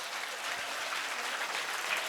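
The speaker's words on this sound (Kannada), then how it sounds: "ತಟ್ಟು ನೋಡೋಣ ಒಂದ್ಸರಿ ಜೋರಾಗಿ ಚಪ್ಪಾಳೆ ತಟ್ಟಬೇಕೆಲ್ಲರೂ" Audience clapping hands loudly at a comedy speech event, a dense, steady burst of applause lasting about two seconds with no talk over it.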